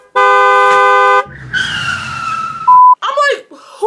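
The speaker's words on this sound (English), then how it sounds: "who the hell is honking me?" A car horn blares in a long loud blast on a Miami road, followed by tyre and engine noise, a second short honk and a voice breaking in.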